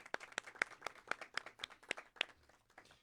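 A small live audience claps for a performer named Cipriano, with faint, sparse claps landing in a loose, uneven rhythm of roughly a dozen distinct hits that trail off toward the end.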